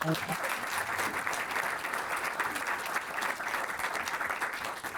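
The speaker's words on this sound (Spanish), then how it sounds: "Un aplauso para..." Audience applause at a human rights book fair panel on economics and dictatorship, a steady dense clapping that fills the whole stretch at even loudness with no voices over it.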